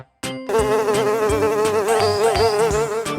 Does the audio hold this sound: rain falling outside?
no